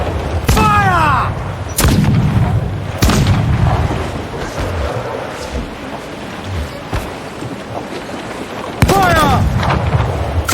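Ship cannons firing in Assassin's Creed IV Black Flag during a naval battle: four heavy booming blasts spaced a few seconds apart over rain and storm noise, with a voice shouting between them.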